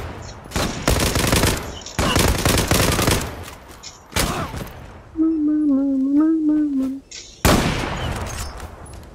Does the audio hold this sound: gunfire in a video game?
yes